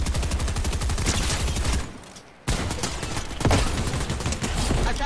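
Loud, sustained rapid gunfire in a video game, dense automatic bursts firing continuously with one short pause midway before resuming at full intensity.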